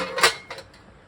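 A metal oil pan baffle is set down into an engine oil pan, giving one bright metallic clank followed by a softer second knock, close and alone.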